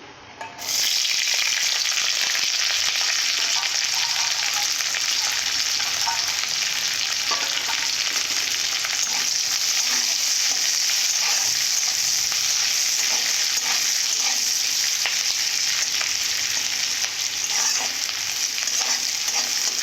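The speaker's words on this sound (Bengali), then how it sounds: "এইভাবে কিছুক্ষণের জন্য ভেজে নেব" Chopped onions frying in a pan, a loud steady sizzle lasting throughout with occasional stirring scrapes and no talk.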